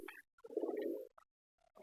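Pigeons in a numbered loft give a close, soft, throaty coo in one sustained burst, with a few brief calls before and after, quiet and without any talking.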